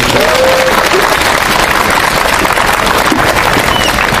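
Audience applause fills a Korean talk event honouring a priest, a dense steady wash of many hands clapping loudly and continuously throughout with no pauses.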